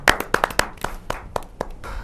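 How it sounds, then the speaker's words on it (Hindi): At a poets' gathering, a few sharp, separate claps ring out close by, scattered and uneven rather than a full ovation, fading toward the end. "जोरदार ताली के साथ।"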